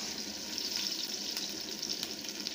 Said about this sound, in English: it's time for us to add our diced onions into the granite oil.